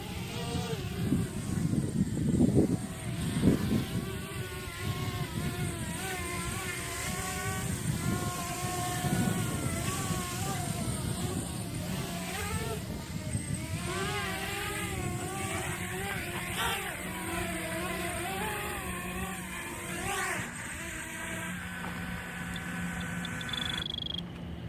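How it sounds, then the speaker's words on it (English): A Blade 200QX quadcopter on an MR200 frame, fitted with stock props and a 1300 mAh battery, flies outdoors in rising wind. Its motor whine swells and dips steadily as it manoeuvres, set against a constant rough background noise. "this is the Blade 200QX on an MR200 frame with the stock props on it and a 1300 milliamp hour battery"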